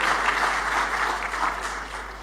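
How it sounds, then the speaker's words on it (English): An audience applauds at a formal Indonesian government speech event honoring a director general, the clapping dense, steady and sustained throughout, with no voices over it. "please give a big round of applause to our dirigent here"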